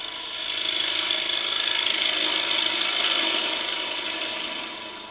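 A woodturning lathe takes a heavy, bulky roughing cut on a wooden piece for a German smoker project, making a loud, continuous rasping, scraping chatter up close that swells and then tapers off.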